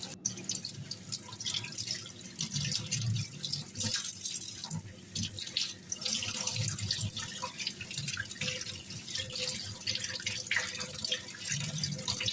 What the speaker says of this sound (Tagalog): ihuhugasan natin lahat. Tanggalin natin yung mga malangsa. Tapos ibabad lang natin siya ng asin kaunti tapos hugasan ulit.